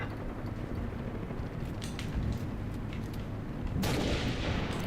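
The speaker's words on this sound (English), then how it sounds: "That was a machine gun." Gunfire in Halo: Reach, a dense, continuous rumble of distant artillery-like shots with a louder burst toward the end.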